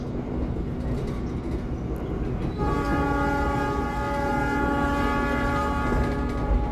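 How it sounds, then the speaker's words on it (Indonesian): The Argo Wilis express train passes straight through Wonokromo station without stopping, heard as a loud rolling rumble of wheels on rails, then a long sustained horn blast that rings on over the passing cars. "Kereta api Argo Wilis melintas langsung stasiun Wonokromo"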